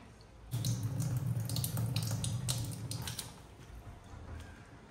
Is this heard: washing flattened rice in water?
yes